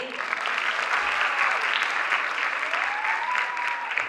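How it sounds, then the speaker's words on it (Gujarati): An audience at a community stage program applauds steadily with dense, sustained clapping from the crowd that stays even for the whole stretch, with a voice faintly heard beneath. "હવે એકવાર અમારા માટે તાળીઓ થઈ જાય ભાઈ."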